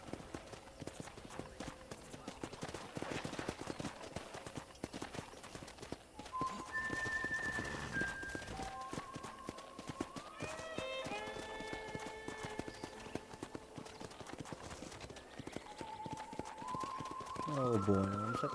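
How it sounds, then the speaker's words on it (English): Horse hooves clip-clop steadily during a ride across a ranch in Red Dead Redemption, a rhythmic trotting patter heard under game music and tones, with a brief horse whinny near the end. "let's see if you can still ride a horse."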